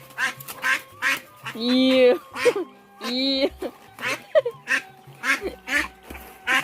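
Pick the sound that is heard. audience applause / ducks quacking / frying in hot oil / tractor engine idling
ducks quacking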